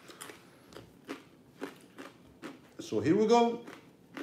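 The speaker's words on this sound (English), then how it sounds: "The food even sounds good when y'all are chewing it." Crunchy food is bitten and chewed up close in a run of sharp, regular crunches, followed by a louder stretch of voices and laughter over the chewing.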